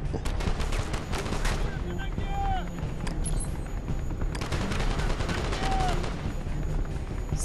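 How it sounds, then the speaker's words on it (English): Dense bursts of automatic gunfire in the Call of Duty: Strike Team video game, loud and near, crackling almost without pause and layered with scattered single shots. "He's like keep on shooting on us and I cannot do anything"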